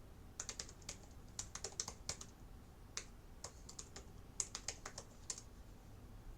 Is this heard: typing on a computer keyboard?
yes